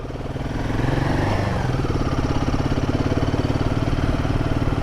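A 2024 Royal Enfield Himalayan 450 with its newer liquid-cooled single engine runs with a steady, even thrum that swells slightly after the first second, then holds at a constant idle-like rhythm, close and unaccompanied by talk.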